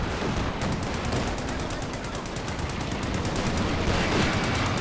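Dense battlefield gunfire and artillery from Company of Heroes 2 in a 2v2 match, a steady wash of rapid machine-gun bursts and booming blasts that runs continuously at moderate loudness.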